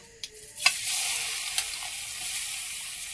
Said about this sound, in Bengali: আগে কিন্তু আমি গাজরটা দিয়ে দেব।